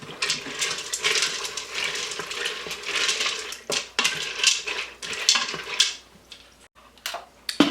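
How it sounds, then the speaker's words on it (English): Water, butter and salt stirred inside an Instant Pot, with a spoon scraping and clinking against the metal insert in irregular bursts and some sloshing, close by with short pauses. "Give it a stir."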